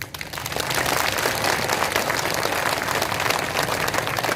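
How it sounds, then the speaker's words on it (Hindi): A crowd at a Ram Navami gathering applauds, a loud, steady wash of clapping that builds within half a second and holds evenly to the end. "तालियां बजाइए।"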